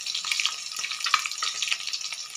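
Katla fish pieces fry in oil in a kadai, giving a steady, close crackling sizzle with light spits throughout the short stretch, and no one speaks.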